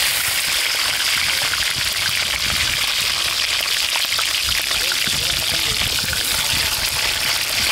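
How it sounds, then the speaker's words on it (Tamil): Sliced brinjal fries in hot sesame oil in a village kitchen, giving a loud, dense, continuous sizzle like heavy rain, with a voice faintly talking underneath. "எண்ணெய் நல்லா சூடானே இது மாதிரி நீட்டாக கட் பண்ணி வச்சுக்கிற கத்திரிக்காவை அதில் சேர்த்து லைட்டாக உப்பு சேர்த்து நல்லா வறுத்து எடுத்துக்கோங்க"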